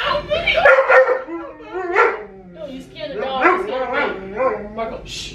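A small dog yips and whimpers in short bursts at close range, mixed in with excited human voices talking over it.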